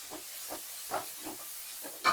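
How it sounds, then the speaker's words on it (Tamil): Ground tomato is poured into a hot pan for chicken curry, sending up soft hissing sizzle bursts that come in quick pulses and end in a louder sputter, close by and with no talk. "அரைச்ச தக்காளி இதோட ஊற்றிட்டேன்."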